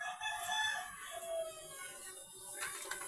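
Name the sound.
hen clucking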